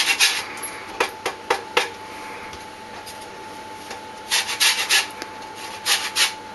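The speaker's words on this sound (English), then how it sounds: "we also need the rinds and the juice from 2 lemons, so I'm just going to grate that straight into the pan" Lemon rind rasped on a hand grater straight into a pan for lemon meringue pie filling, heard as close, bursty scraping strokes in two clusters separated by a quiet pause.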